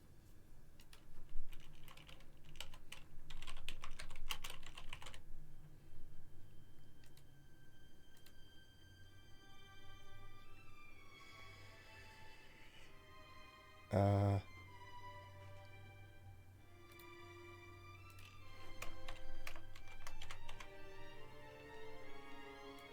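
Computer keyboard typing comes in scattered bursts of quick, light clicks, near but quiet, with pauses between runs and a brief louder thump midway.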